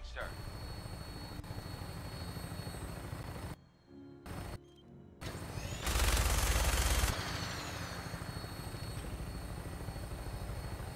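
Minigun fire from an aircraft in Fallout 4, a dense rattling burst of rapid shots over a constant rotor-like drone, loudest for about a second mid-clip before fading back into the engine hum.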